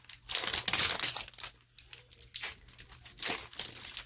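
Scissors cut open plastic toy packaging during an unboxing, with loud crinkling and tearing of the wrap in irregular bursts at close range and a faint steady hum underneath.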